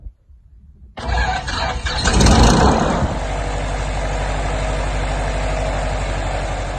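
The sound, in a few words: light aircraft propeller engine starting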